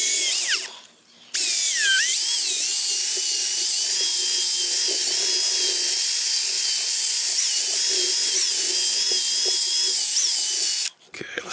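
A power drill with a buffing pad whirs steadily against the lacquer finish of a Martin CEO-7 acoustic guitar, its pitch wavering slightly with a short pause near the start and the motor stopping at the end.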